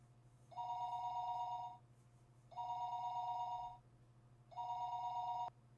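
A telephone rings in the Higurashi visual novel, three even electronic bursts of about a second each separated by short pauses, over a faint steady low hum.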